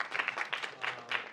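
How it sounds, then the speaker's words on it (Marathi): Applause from an audience at a live stage performance, a short burst of clapping at moderate distance, fairly quiet and steady with no voices over it. "त्यामुळे एकदा माझ्याकडनं सुद्धा खूप जोरदार टाळ्या तुमच्यासाठी."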